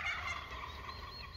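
Turkey gobbling in a pen where a hen was placed with young poults, a steady run of repeated calls filling the clip, fairly close and moderately loud.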